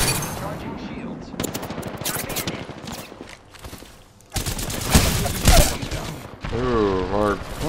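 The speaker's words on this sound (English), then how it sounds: "Under fire. I am taking fire, friends." Bursts of rapid automatic gunfire crackle in a multiplayer shooter, arriving in several loud clusters with brief pauses between them, close and dense, with some mechanical clatter alongside.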